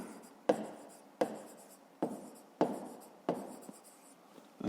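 Pen or chalk writing by hand while working a fifth-grade math exercise, a close series of scratchy strokes in five or six separate bursts, each beginning with a sharp tap and trailing off, with no talking.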